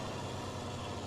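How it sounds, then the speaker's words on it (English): A steady, low, droning tractor engine in Farming Simulator 19, running continuously at an even pitch with no change in level, moderately loud and alone. "This tractor's really noisy."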